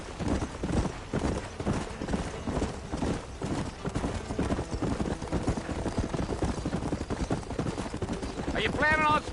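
Horse hooves gallop at a steady clip-clop rhythm through the whole stretch in Red Dead Redemption, loud and close, with a brief whinny near the end and game dialogue voices mixed over the hoofbeats.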